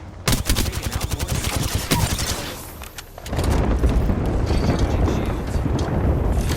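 Rapid automatic gunfire rattles in Apex Legends, with fast repeating shots in bursts, a brief lull, then a sustained heavy barrage of loud gunshots and booms.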